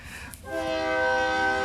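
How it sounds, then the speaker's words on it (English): A train horn sounds in the rhythm game Rhythm Doctor, a sustained multi-tone blast that swells in after a brief rumble and holds steady, loud and close, to the end. "It's a train."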